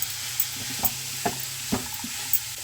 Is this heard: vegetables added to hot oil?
yes